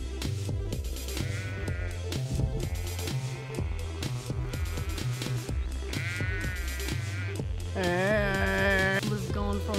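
Sheep bleat repeatedly inside a sheep shed on an Australian station, overlapping wavering bleats from several animals close by, the loudest near the end, with a faint voice in the background.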